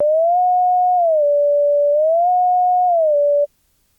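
A pure synth sine tone in Surge XT glides smoothly up and down between two pitches in a slow wavering pattern, then cuts off abruptly into silence.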